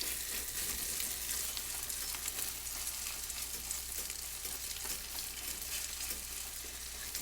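Whisked egg frying in plenty of hot oil while it is broken up in the pan, a steady, dense sizzle that stays loud and even throughout with no talking.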